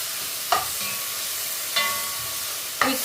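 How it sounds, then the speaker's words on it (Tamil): Ginger garlic paste stirred in a hot frying pan for prawn biryani, a steady sizzle broken by three sharp scraping strokes of the spoon, close and clear. "போட்டுட்டு நல்லா மிக்ஸ் பண்ணி விடுங்க."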